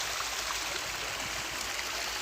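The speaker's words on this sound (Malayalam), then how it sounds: "ഇവിടെ വരെ വന്ന സ്ഥിതിക്ക് നമുക്ക് വെള്ളച്ചാട്ടം കൂടെ ഒന്ന് കാണുമല്ലോ" Rushing water at the Chengara waterfall in Pathanamthitta, a steady dense roar that runs unbroken and loud, with no voices over it.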